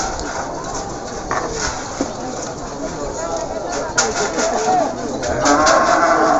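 Cattle at a Madurese bull race, a Karapan Sapi selection heat in Bangkalan, with a busy outdoor crowd din and an announcer talking throughout, while bursts of activity rise toward the end.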